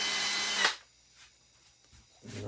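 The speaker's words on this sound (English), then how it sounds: "We're going to drill a hole here in the middle." A power drill boring a hole in a wall runs loud and close for under a second, then cuts off to a quiet room with faint handling noises before another brief tool burst.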